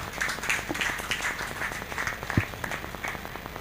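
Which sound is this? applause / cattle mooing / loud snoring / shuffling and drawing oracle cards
applause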